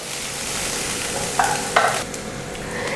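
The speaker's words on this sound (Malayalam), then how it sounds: "വെജിറ്റബിൾസ് ഒന്നും ഓവർ കുക്കായി പോകരുത്, ജസ്റ്റ് ഒന്ന് വഴറ്റി കൊടുത്താൽ മതി." Vegetables for egg fried rice sizzle hard in a pan over a high flame, a steady hiss with two sharp clatters of a spatula or ladle against the pan partway through. There is no talking.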